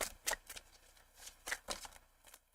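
Tarot cards are shuffled by hand in several quick, crisp bursts of flicking and riffling, close and fairly quiet with short pauses between.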